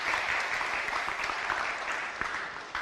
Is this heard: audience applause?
yes